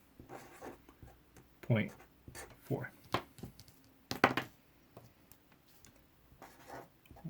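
A pen scratches out decimal numbers by hand on paper in short, separate bursts of strokes and taps, close and fairly quiet, with pauses between each written figure.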